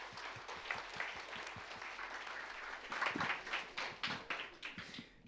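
Warm applause from a church congregation greeting two seminary graduates at a Sunday service, steady clapping from many hands that swells toward the end, with no talking over it.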